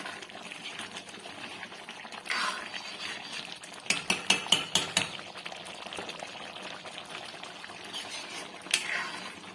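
Potatoes being stirred and fried in a mutter paneer curry: sizzling in the pan with a burst of sharp spoon-on-pot scrapes and clinks in the middle, then quieter frying with an occasional knock.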